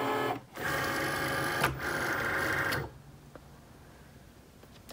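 A Cricut cutting machine loads a mat, whirring and buzzing mechanically in two close bursts with a brief pause between, then falling quiet apart from faint clicks.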